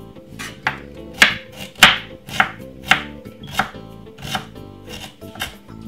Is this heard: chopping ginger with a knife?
yes